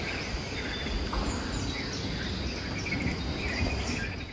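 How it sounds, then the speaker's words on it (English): A woodland chorus of small birds and insects chirps and trills steadily, faint and distant, over a constant hiss of outdoor ambience with no voices. "and I love the sound of the birds."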